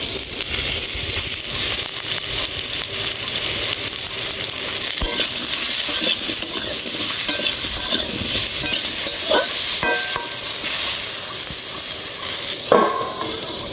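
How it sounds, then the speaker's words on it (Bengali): Potato pieces fry steadily in a pan, a close continuous sizzle broken by scattered metallic scrapes and clinks of stirring. "আলুগুলো কিছুটা লালচে করে একদম ভেজে নেবো"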